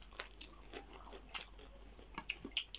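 Homemade French fries are bitten and chewed in a quiet close-up: soft crunches and mouth sounds come in a loose, irregular rhythm, with a few sharper bites standing out.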